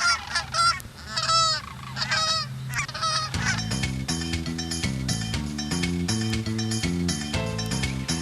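Sandhill cranes give loud, rattling bugled calls in a few bursts, followed by steady droning music in the background, with no speech.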